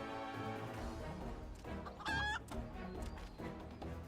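Chickens in the Final Fantasy XIV game cluck and squawk, with one loud, sharp call standing out, over game music in the background.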